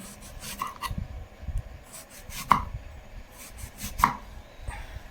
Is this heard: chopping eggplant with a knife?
yes